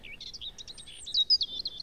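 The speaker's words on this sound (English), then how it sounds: "I hear birds chirping." Small birds chirp and tweet in a quick, high, fluttering series with a few louder bright notes near the end, heard alone with no talking.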